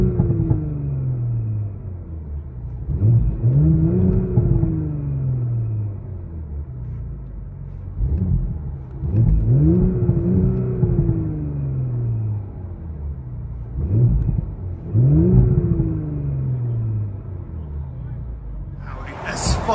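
Audi S5 with a V6 engine and mid-muffler delete, its exhaust revving in three repeated cycles, each a rising then falling growl that swells loudly before dropping back to a low idle rumble.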